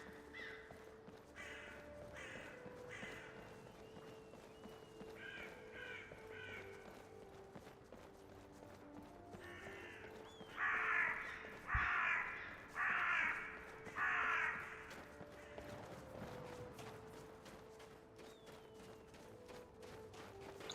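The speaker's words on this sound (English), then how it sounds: "Those were some loud crows." Several crows caw loudly outdoors in a series of harsh, repeated calls, some closer bursts rising over a quieter background of more distant cawing.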